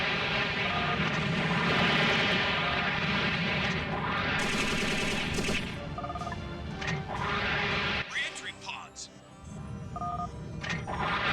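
Rapid gunfire rattles through a busy battle in the Robotech: Battlecry game, with bursts mixed among electronic game effects and aircraft sounds, while someone talks over the action.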